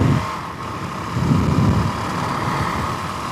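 A Suzuki DRZ400 bored and stroked to 470 with the stock E-model exhaust and wide-ratio gears runs close by, its engine droning and swelling briefly in a short rev under steady wind noise.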